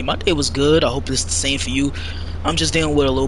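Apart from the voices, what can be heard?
No everyday noise stands out behind the speech.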